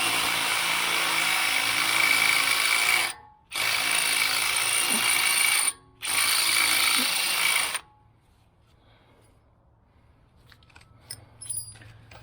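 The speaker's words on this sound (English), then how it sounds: "So I'm going to drill that out." A loud, steady power drill whirs in three long bursts separated by brief pauses while drilling out a screw on a Honda brake assembly, then cuts off, leaving faint clicks and handling noise.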